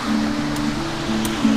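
Steady rushing water flowing at an old Spanish-era dam, a dense continuous roar heard close up with no voices.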